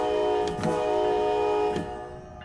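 A locomotive horn blares in the Train Sim World 6 simulator game: two loud sustained chordal blasts, the second cutting off near the end and leaving a quieter rumble of the train.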